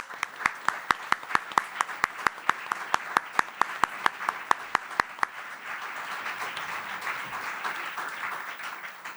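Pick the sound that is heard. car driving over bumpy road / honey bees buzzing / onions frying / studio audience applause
studio audience applause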